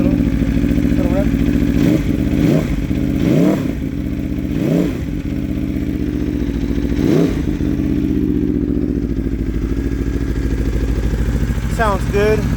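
A 2021 Aprilia RSV4 Factory 1100 sportbike, engine cold, idles with a loud deep throb while several short throttle blips rise and fall, then settles back to a steady idle before a final quick rev.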